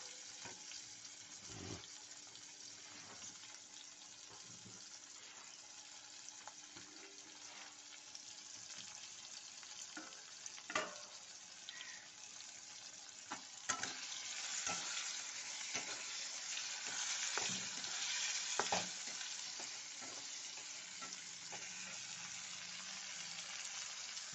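Green chillies and chopped onions frying in a pan for a fish-head murighonto, a steady soft sizzle with intermittent clatters and scraping stirs, growing louder toward the end.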